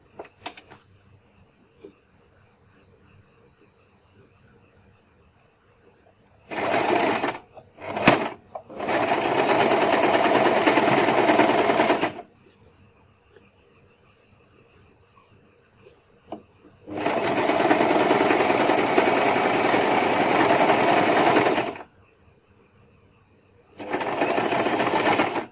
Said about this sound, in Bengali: একটু খেয়াল করে সেলাই করতে হবে।